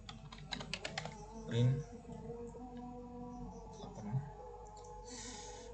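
Code being typed on a computer keyboard, with quick runs of close, crisp key clicks broken by short pauses over a quiet room hum.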